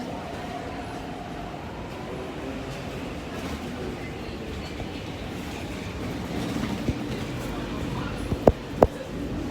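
An MTR train at Ma On Shan Station rumbles steadily through the whole stretch, with a low, even roar and a couple of sharp clacks near the end. Faint talk sits in the background.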